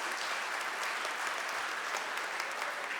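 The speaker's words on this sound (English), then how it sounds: "You can applaud for that." A large church assembly applauds after election results in a plenary session, a steady, even patter of many hands clapping for a few seconds.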